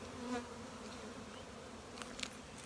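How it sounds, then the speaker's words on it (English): Honeybee swarm in a bee yard: a dense, continuous buzz of many bees, steady and fairly close, with a few brief brighter sounds near the end and no talk. "a swarm just means growth in a hive, going on in our bee yard"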